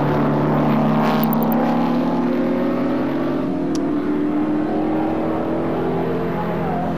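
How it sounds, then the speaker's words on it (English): Racing cars circuit a track in a 1978 motor race, with a steady, loud engine drone and layered engine notes from several cars running continuously throughout. "And this is developing into a motor race, Graham."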